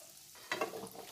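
Khasta goja sweets fry in oil over low heat with a soft, faint sizzle and a brief bubbling rise partway through, close and quiet.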